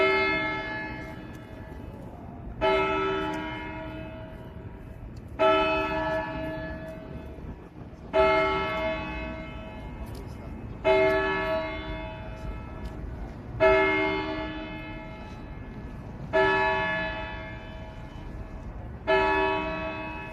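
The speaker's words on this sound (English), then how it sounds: "There's that noon bell, guys, right behind us, ringing up there at the courthouse." A courthouse bell tolls at noon, ringing alone in clear, evenly spaced strikes about every two and a half seconds, each with a ringing metallic decay, heard outdoors at a moderate distance during a peaceful march.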